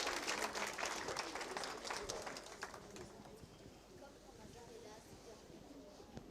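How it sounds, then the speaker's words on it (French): Applause from a French audience at a gathering, strongest at the start and thinning out into scattered claps and murmuring voices, fairly faint and distant. "Est-ce que vous pouvez l'applaudir?"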